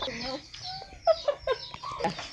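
Chickens cluck in short, close bursts, a few sharp calls in quick succession, with some background chatter, at a rural hut.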